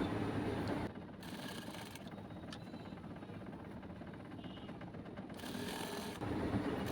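A sewing machine stitches a shirt seam in a steady mechanical whir that runs through most of the stretch, with brief pauses and changes in pace near the start and end.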